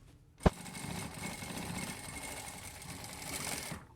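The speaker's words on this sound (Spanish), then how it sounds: "y entonces aquí vamos a coser" A sewing machine stitches a formal shirt collar, starting with a sharp click and then running in a steady, continuous whir, loud and close, until it stops near the end.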